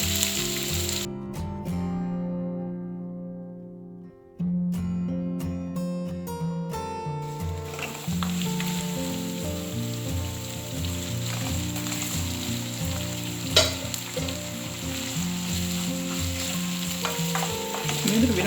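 Prawns cook in hot oil with salt in a Sri Lankan style stir-fry, giving a steady close sizzle with scraping and stirring clinks throughout that grow denser as the pan heats.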